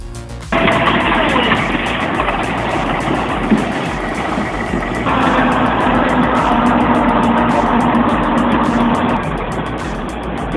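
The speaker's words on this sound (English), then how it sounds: "The Hydrema 922F is a smaller dump truck, but it's built to operate in areas with limited room." A Hydrema 922F articulated dump truck's diesel engine drones loud and close, rising in intensity partway through and holding a steady rumble for several seconds before easing off.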